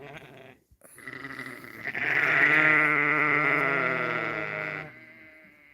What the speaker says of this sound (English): there's 13 lambs in this mix